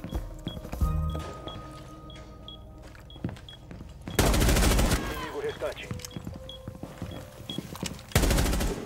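Rapid bursts of automatic gunfire crackle loudly in two long volleys, with sparser single shots and faint beeps between them, game-like and close, from Rainbow Six Siege.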